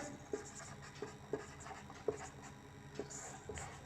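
A pen scratches across paper while solving a Class 10 maths problem, with short soft strokes and taps recurring irregularly, faint and close, without audible talk.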